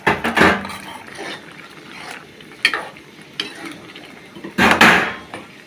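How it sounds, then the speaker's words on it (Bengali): Boiled potatoes tipped into a pot of cooked lentils, heard as a few loud clattering, scraping bursts of pot and spoon handling with quieter stirring between, close by and without talk. "আমাদের ডালগুলো ফুটে গেছে, এখন আমরা সিদ্ধ আলুগুলো দিয়ে দেব।"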